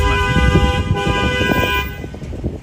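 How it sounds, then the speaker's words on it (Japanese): Car horns honking on a busy street in Brownsville, Brooklyn, a loud sustained blare layered with overlapping toots and traffic noise, fading slightly near the end. "でもクラクションとかもやっぱりうるさいですね。"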